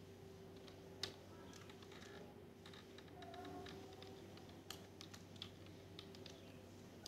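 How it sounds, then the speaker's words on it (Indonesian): Fingers tapping a command on a computer keyboard, scattered soft key clicks in small bursts over a quiet, humming room. "kita bisa mengetikkan perintah time"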